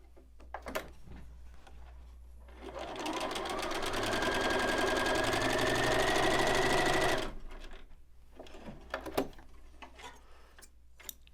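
Sewing machine stitching rows of a fall leaves table runner, a rapid rhythmic mechanical whirr that ramps up, runs steadily for several seconds and stops, framed by light handling clicks and fabric rustle.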